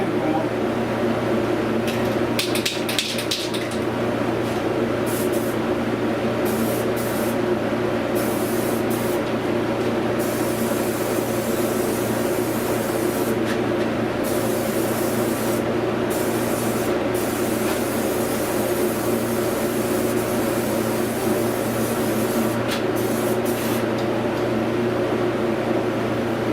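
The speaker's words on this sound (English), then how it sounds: "I'm going to come in and start spraying this down" An aerosol can sprays etching primer onto a rusty car frame, a loud continuous hiss running throughout with a few brief pauses, over the steady hum of a nearby fan.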